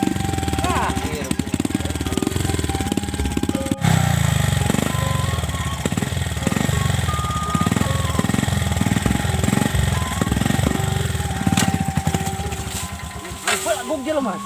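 A motorcycle engine runs close by in a Sundanese comedy short film, a loud, throbbing idle with uneven revving pulses that continues throughout.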